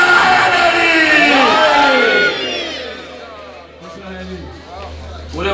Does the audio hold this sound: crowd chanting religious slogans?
yes